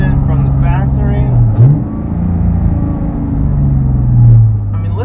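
A 2018 Porsche 911 991.2 GT3 with a 4-litre flat-six and six-speed manual gearbox holds a deep, loud, steady rumble with a brief throttle blip midway and a swelling rev near the end. A voice is faintly present.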